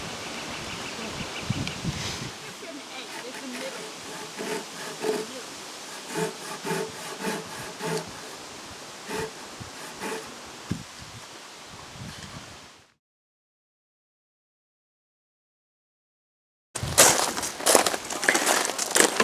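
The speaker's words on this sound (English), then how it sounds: "It's a Chain Saw Mortiser. It makes making your mortises very easy." Loud, steady grinding and rasping of a chain saw mortiser's chain cutting into timber, running continuously, then stopping to silence before starting up again abruptly.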